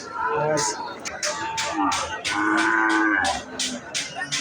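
Several large-breed cows, including Brahma cows, moo loudly and repeatedly in long, drawn-out calls at a cattle market, with a busy crowd murmuring underneath.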